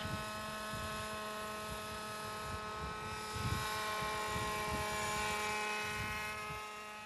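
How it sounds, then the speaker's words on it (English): A model helicopter flies nearby with a steady buzzing rotor and motor drone that swells slightly midway, no voices. "Would you like to have a smooth flying helicopter like this one?"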